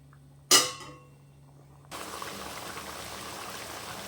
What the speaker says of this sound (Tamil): நல்லா இந்த பச்சை ஸ்மெல் போகிற வரைக்கும் நல்லா கொதி வரட்டும்